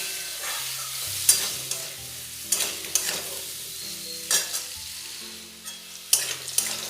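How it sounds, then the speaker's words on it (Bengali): Potato pieces fry in oil with turmeric and salt for a prawn malaikari, giving a steady soft sizzle broken by several sharp scraping stirs of a spatula against the pan, close and without talk. "দিয়ে আলুগুলো লাল করে ভেজে নেব।"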